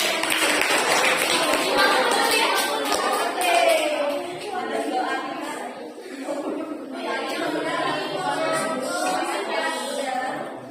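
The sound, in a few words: classroom applause for a student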